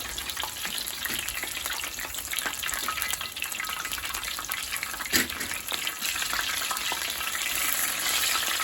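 Conger eel tempura frying in hot oil for an anago tendon lunch, a steady dense sizzle and crackle of bubbling batter running continuously at close range, with a brief louder pop midway and no talk.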